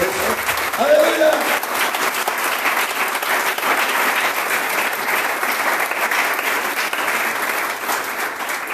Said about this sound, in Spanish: ¿No le da un fuerte aplauso a Cristo Jesús por eso?